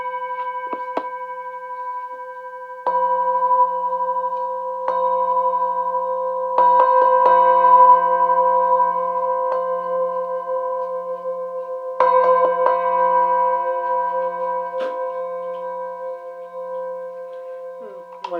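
Remuna talking singing bowls from a seven-bowl set struck and sounded in turn, clear sustained ringing tones layered over one another, each new strike adding a bright onset before long fading hums.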